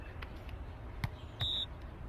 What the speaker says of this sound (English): someone's smoke detector keeps going off